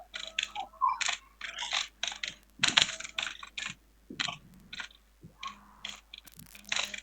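Bursts of quick clicky keystrokes on a computer keyboard, close and crisp, in uneven typing runs separated by short pauses, with no talking.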